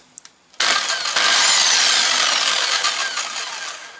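A power drill spins a mounted container holding a raw egg in its shell, starting abruptly after a few clicks and then whirring loudly with a harsh, steady rattling hiss that slowly eases toward the end.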